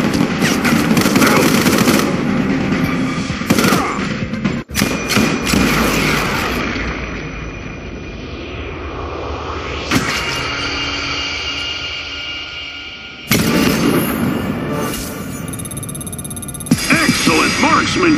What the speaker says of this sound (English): Accuracy with assault rifles.